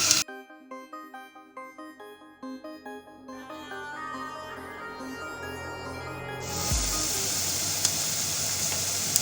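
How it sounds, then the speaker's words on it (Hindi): Onions in hot oil in a pot begin to fry, a steady sizzle rising sharply partway through after a stretch of quieter background tones and soft ticks. "ऑयल गर्म हो गया, अब इसमें हम प्याज शामिल करेंगे। प्याज को हम इतनी देर पकाएंगे कि प्याज नरम हो जाए।"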